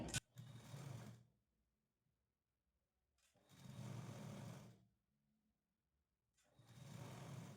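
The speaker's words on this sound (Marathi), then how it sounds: "आता इथं आपण अगदी कडेला शिलाई मारून घेणार आहे" A sewing machine stitching a blouse sleeve seam runs in three short bursts of about a second each, separated by quiet pauses, close and fairly soft.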